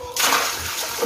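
A brief, close splash of water during rinsing, with water sloshing and spattering for about a second.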